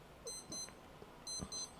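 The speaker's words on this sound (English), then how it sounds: "why is that alarm? That's an old watch that used to be on my DR650." An old wristwatch alarm beeps faintly in two quick double bursts of thin, high electronic chirps, with a short pause between the pairs.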